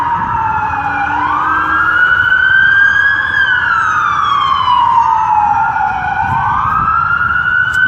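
Emergency vehicle sirens wail loudly and continuously as they pass, the tone sweeping up and down in long slow cycles over a steady traffic rumble, with no talking.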